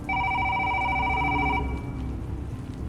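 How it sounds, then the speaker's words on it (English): A telephone rings loudly in a house, one sustained electronic bell tone that stops partway through and leaves quiet room noise afterward. "the phone rang again"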